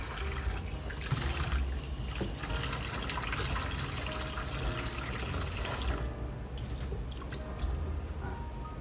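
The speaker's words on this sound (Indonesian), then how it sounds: "Jadi kita isi dulu baskom kedua ini pakai air bersih." Clean water pours steadily into a second basin, set up for rinsing a scrub brush during wet cleaning of shoes, a continuous close trickling and splashing that fills the space without pause and with no talk over it.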